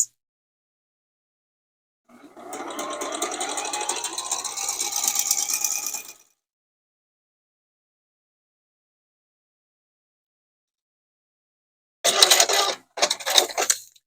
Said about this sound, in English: you'll just go through and sew that first seam on each one of your units